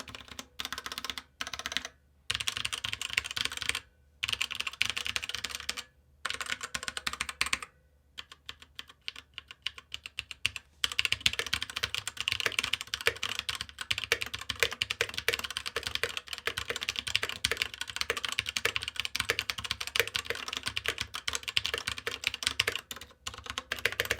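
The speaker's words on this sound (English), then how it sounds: "Let me go on and give you a sound test here and you can judge for yourself." Typing on a Cooler Master CK721 wireless RGB gaming keyboard with TTC switches, a dense, steady clatter of close keystrokes broken by a few brief pauses early on, then continuous rapid typing.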